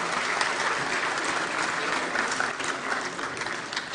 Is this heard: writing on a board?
no